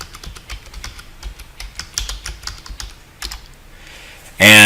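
Fingers type on a computer keyboard, entering a ping command. Quick, irregular clicks sound close and clear, and a sudden loud burst of noise cuts in at the very end.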